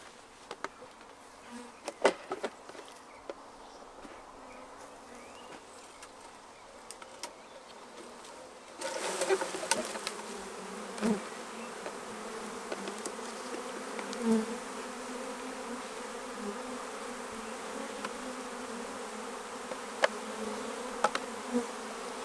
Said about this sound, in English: I'll shake the bees into it